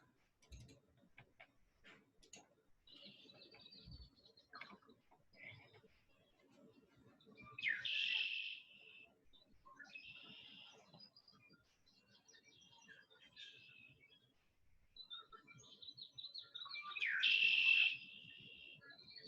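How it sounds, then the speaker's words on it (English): A recorded red-winged blackbird song plays back, with two bright buzzy trills standing out among softer chirps and faint ticking, moderately quiet against a still background. "So we're going to play you a video of the red-winged blackbird."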